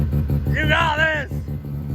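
A drag car engine rumbling at idle with a low, pulsing throb, its pitch briefly rising as it revs during a warm-up shift; a person speaks over it.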